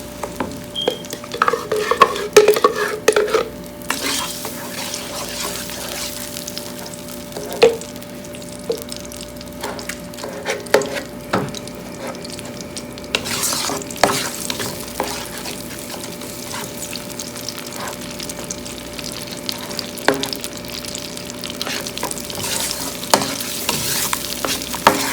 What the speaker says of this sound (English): So now we will add our tomato puree.